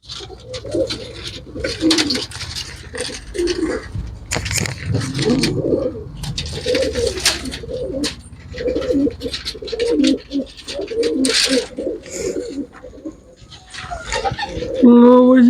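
Kaal sare pigeons coo close by in throaty, repeated bursts, with wing flutters and shuffling mixed in. Someone talks quietly now and then.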